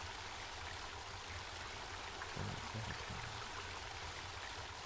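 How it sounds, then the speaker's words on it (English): River water flowing steadily in a video game, a constant broad rushing wash at moderate volume with a faint low stir partway through. "Here we go. I'm back at the river."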